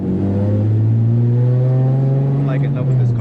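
Single-turbo Nissan 350Z HR with anti-lag engaged, heard up close as a loud, steady engine drone that climbs gradually in pitch, with a faint flutter near the end.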